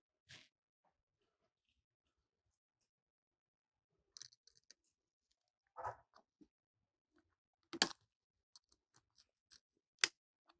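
Reusable power steering hose clamps on a Mercedes-Benz W211 E63 AMG snapping shut with special pliers: a few sharp, isolated clicks and snaps spread across near-silence, close and crisp.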